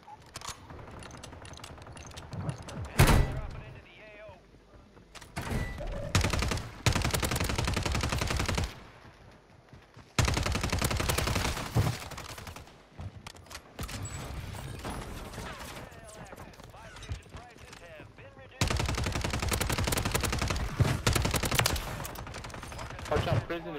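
Rapid bursts of automatic gunfire from enemies in a multiplayer shooter game come in loud, dense volleys with brief gaps between them, alongside the players' own voices talking.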